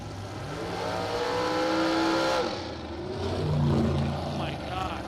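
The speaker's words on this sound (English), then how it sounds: "Landon Martinez brought the RPMs up too early." A drag race car at a Superbucks Showdown revs its engine early at the line, a loud rising and falling roar in two swells, with a voice commentating over it.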